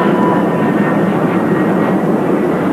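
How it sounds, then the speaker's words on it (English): Fifteen C-130 Hercules aircraft flying in a Balbo formation at the 1987 Fairford airshow give a loud, steady, dense engine roar that fills the whole moment without a break. "doing their version of formation flying with this Balbo of 15 C-130 Hercules aircraft"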